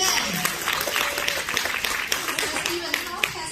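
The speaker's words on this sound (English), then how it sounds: "So once again, a big round of applause for Stephen." Audience applause after a speaker is thanked at a practice session, steady clapping throughout with some talking mixed in underneath.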